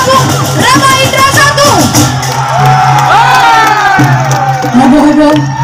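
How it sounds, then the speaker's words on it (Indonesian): A crowd at an Ogoh-Ogoh parade in Seputih Raman cheers, whoops and shouts continuously, a loud dense roar of voices and festive noise throughout. "Beri tepuk tangan yang meriah untuk kampung Rama Indra"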